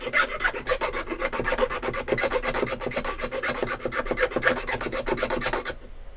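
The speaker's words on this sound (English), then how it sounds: "I'm going to do this with a file" A hand file rasps steadily across a project piece in quick, even back-and-forth strokes, close and dry, continuing for several seconds before stopping abruptly.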